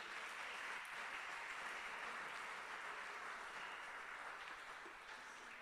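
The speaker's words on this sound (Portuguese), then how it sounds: "Forte aplauso ao nosso Senhor Jesus" A church congregation applauding at the close of a sermon, a dense, steady wash of clapping heard at a distance and fairly faint, easing slightly at the end.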